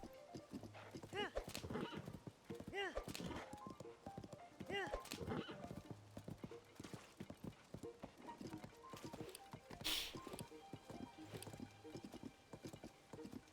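A horse's rhythmic hoofbeats clip-clop steadily in The Legend of Zelda: Tears of the Kingdom, with the horse whinnying at times, set against light game background sound and occasional talk.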